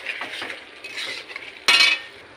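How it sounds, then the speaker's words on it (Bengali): Chilli chicken pieces stirred in a pan with a utensil, giving steady scraping and light clinks against the metal, then one sharp louder clink near the end; no talking. "চিকেনগুলো দিয়ে বেশ ভালো করে আমি এটা মিক্স করব।"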